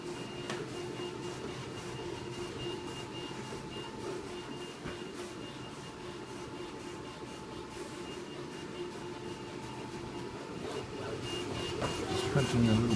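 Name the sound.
Wanhao Duplicator 4x 3D printers printing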